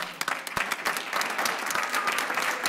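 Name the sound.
round of applause at board meeting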